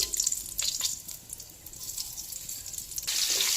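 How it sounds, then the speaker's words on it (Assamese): Nigella seeds (kalonji) sizzling in hot oil in a pan just used for frying fish, a steady close hiss that briefly dips and then swells louder again. "এয়া মাছ ভজা কেৰাহীখনতে মই কালজিৰা কেইটামান দি ল'ম"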